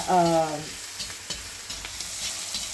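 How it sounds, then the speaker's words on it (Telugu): Frying with ginger garlic paste and turmeric, a soft sizzle with a few light stirring knocks close by, opening with a brief tonal voice-like sound. "ఇది కొంచెం ఫ్రై అయిన తర్వాత అల్లం వెల్లుల్లి పేస్ట్ వేసేసి పసుపు వేసి"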